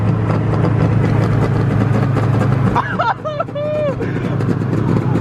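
Loud, steady engine drone from a lowered Scion FR-S fitted with a Tomei exhaust, running continuously under excited voices and crowd babble, with a brief dip partway through as someone calls out.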